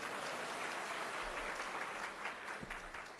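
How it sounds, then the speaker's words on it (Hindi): Audience applause at a spiritual katha gathering, a dense steady patter of many hands sustained throughout at moderate level, captured through a hall sound system with no voices over it. "बजा दीजिए, ताली बजा दीजिए।"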